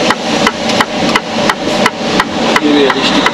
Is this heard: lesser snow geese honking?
no